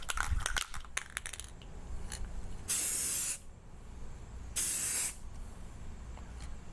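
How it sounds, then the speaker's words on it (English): A spray can coats a stainless steel rifle barrel in two loud, steady hissing bursts of under a second each, close up, after some clinks and handling noise, with no voices. "we're going to hold the can 8 to 10 inches away from the barrel as we paint"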